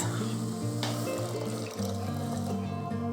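Mussel juices poured into leeks frying in a pot for a mussel and corn chowder, a continuous liquid splash and sizzle over a steady background hum, with no talking.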